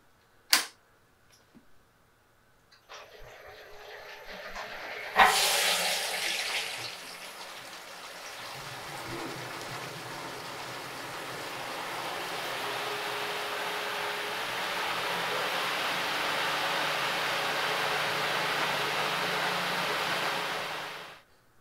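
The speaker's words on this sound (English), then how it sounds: "we're gonna fire up the pump again and get it recirculating" Pump recirculating hot PBW cleaning solution through a fermentor during clean-in-place: a few clicks and a thump as it starts, then a steady rushing, hissing flow of liquid that builds and holds for about fifteen seconds before cutting off.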